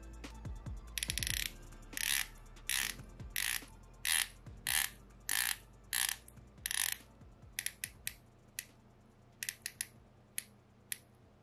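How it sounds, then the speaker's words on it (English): A Proxima PX1697 watch bezel is turned in a run of crisp, evenly spaced ratcheting clicks, close and isolated, slowing into shorter irregular clicks toward the end. "the bezel action is very smooth and responsive, and there's pretty much no back play whatsoever"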